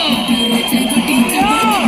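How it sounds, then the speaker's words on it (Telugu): Crowd cheering and whooping at a shop inauguration in Tadipatri, a dense continuous roar of voices with shouts rising over it and a tonal whistle or call near the end, though clear clapping is hard to pick out. "రావాలి గట్టిగా చప్పట్లు"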